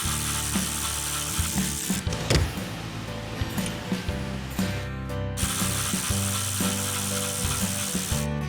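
Ratchet backing out bolts from a car's rear wing on a '71 'Cuda convertible, a steady run of close, dense clicking from the pawl with brief pauses between strokes and no talking.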